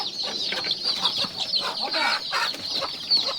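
Chicks cluck and chatter continuously nearby at a village coop, a busy overlapping chorus of short calls with no talking.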